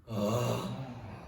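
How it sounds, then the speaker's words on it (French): A single deep inhale drawn slowly through the airway during a guided breathing exercise, close and alone, swelling quickly and then easing off over about a second. "On inspire."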